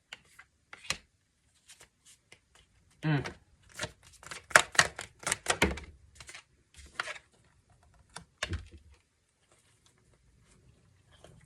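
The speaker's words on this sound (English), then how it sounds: "as I was shuffling" A deck of tarot cards is shuffled in short, scattered bursts of crisp riffling and tapping, close up, with quiet gaps between the flurries.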